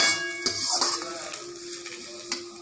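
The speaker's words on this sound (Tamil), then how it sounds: "இந்த மாதிரி நல்லா வதக்கிட்டே இருக்கணும்." Ridge gourd peel sautéed in a pan for thogayal, a soft close sizzle with clinking stirs of a utensil against the pan.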